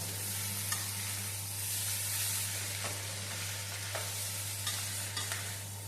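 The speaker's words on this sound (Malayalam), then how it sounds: "നമുക്ക് കക്കയിറച്ചി ഒന്ന് ഇളക്കി കൊടുക്കാം." Clam meat thoran sizzles softly in a pan while being stirred, a steady frying hiss broken by light scraping strokes, with a low constant hum underneath.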